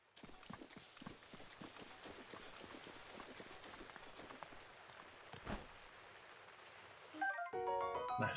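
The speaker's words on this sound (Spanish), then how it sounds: "La lluvia no ayuda." Rain falling in the video game Zelda Breath of the Wild, a steady wash of patter with scattered sharper drops, heard fairly quietly and continuously before giving way to game music and effects near the end.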